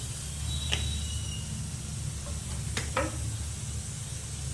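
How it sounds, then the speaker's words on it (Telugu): Fenugreek seeds frying in about three spoons of hot oil in a kadai, giving a steady close hiss and sizzle with a few sharp crackles and pops, and no talking. "ఈ నూనెలో కాస్త మెంతుల్ని చిటపట్లాడించాలి."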